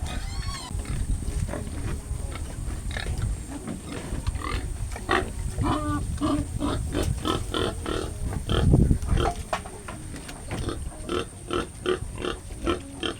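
A sow is handled on a pig farm, with repeated rough grunts and snorts, close and fairly loud, in an irregular rhythm over shuffling and background noise.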